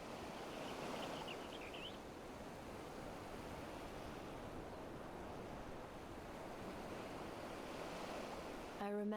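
Open-sea waves in Final Fantasy XIV wash steadily as a broad, soft surf with windy hiss throughout, fairly faint, under a brief spoken line.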